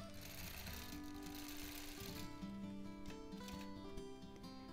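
A longarm quilting sewing machine stitches an edge-to-edge freehand design in a steady, continuous whir that holds level throughout, with a melodic tonal hum running alongside.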